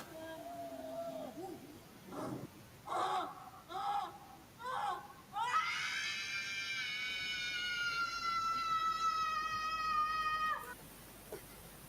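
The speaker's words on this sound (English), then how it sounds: "this is how the original Five Nights at Freddy's Scream" Animatronic jumpscare scream from the original Five Nights at Freddy's video game: a few short harsh bursts, then one loud sustained shrill screech lasting about five seconds before cutting off abruptly.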